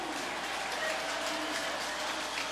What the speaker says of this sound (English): Here's the entry to the velodrome. Listen to the crowd.